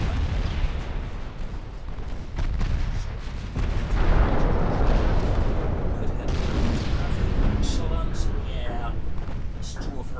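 Battle cruisers trade naval gunfire in Ultimate Admiral Dreadnoughts, with repeated deep booms and rumbling blasts rolling over one another in a dense, continuous barrage.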